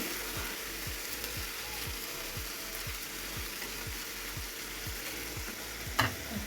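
Fish and fish roe frying in a pan, a steady close sizzle with regular soft ticking from stirring, about twice a second, and a brief clatter near the end; no voices.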